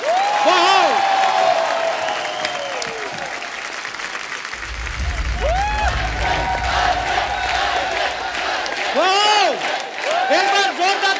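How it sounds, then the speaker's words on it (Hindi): Studio audience at The Kapil Sharma Show, a Hindi comedy talk show, applauds and cheers loudly and steadily for a superstar guest's grand entrance, with whoops and a host's voice rising over the clapping. "तालियां बजती रहनी चाहिए।"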